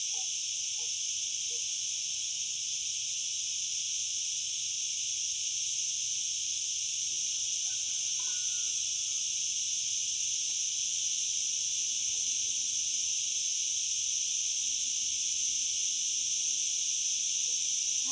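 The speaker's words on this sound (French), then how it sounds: "le chant des cigales" A dense, continuous high-pitched buzz of cicadas fills the air without a break, loud and steady, with faint soft sounds underneath.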